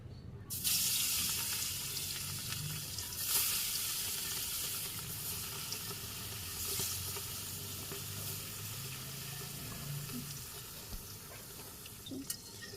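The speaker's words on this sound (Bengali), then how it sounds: "তেলও গরম হয়ে গেছে, মাছ দিয়ে দিই।" Fish hits hot oil in a wok with a sudden loud sizzle that settles into steady, close frying with occasional crackles and pops.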